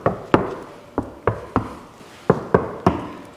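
Knuckles rapping on the sliding door of a VW T4 van, eight sharp, hollow knocks in two uneven bursts, close and distinct with quiet gaps between, no voices.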